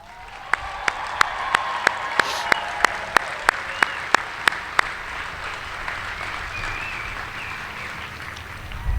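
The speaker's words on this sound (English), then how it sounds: "Let's give them a round of applause." Audience applause at a US Air Force Basic Military Training coin and retreat ceremony honoring military training instructors, sustained crowd clapping with a few sharp loud claps standing out early on.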